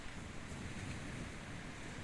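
Sea waves roll and break with foam under dark skies, making a steady, soft wash of surf with some wind noise, continuous and fairly faint with no talking.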